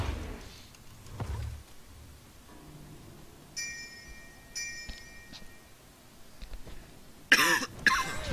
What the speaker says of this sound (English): I'm sorry for the cough, guys.